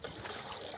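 Water being poured into a large pot of biryani under preparation, a steady soft trickle lasting under a second, faint and close, with no voices.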